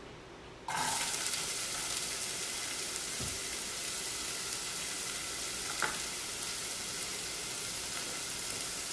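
Chopped onions hit hot oil with cinnamon and cloves for a beetroot kurma, bursting into a loud, sudden sizzle after a quiet moment, then a steady hiss with a couple of faint utensil knocks.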